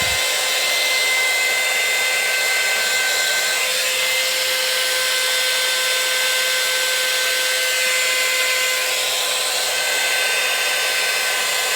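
A hair dryer blows steadily on hair to put curl back in, a loud continuous whir with a faint whine, running alone without voices.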